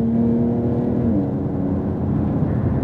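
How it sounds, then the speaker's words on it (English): A Porsche 911 Turbo S accelerates on a track, its engine a steady, close, droning whir that rises slightly in pitch, heard from inside the car with no talking. "Accelerate, let's add a little power"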